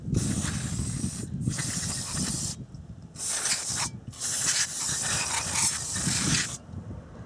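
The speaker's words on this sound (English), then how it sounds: "now I'm out here at my parts cleaning station to spray off any remnants" Aerosol parts cleaner hisses in several long bursts onto a Honda Trail 90 engine cylinder, separated by short pauses, close and fairly loud, with faint rattling in the background.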